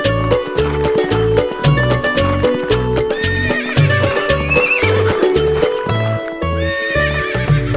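A horse whinnies and its hooves clop in a steady galloping rhythm, loud and close, set against a bright musical backing in a Hindi children's rhyme.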